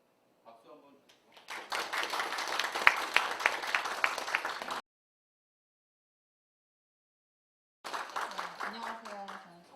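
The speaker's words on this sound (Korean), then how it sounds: "박수 한번 주시고" An audience at an in-house innovation workshop for Seoul Children's Grand Park claps in a brisk round of applause lasting a few seconds. A voice speaks before it, and speech resumes after a brief silence.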